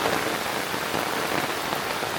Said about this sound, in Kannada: ಏನು ಸಿಂಬಾ ಮಳೆ ಬಂತ?